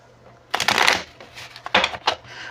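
Tarot cards being shuffled close up, a couple of quick riffling bursts with soft papery flutters in between, fairly quiet against a faint background hum.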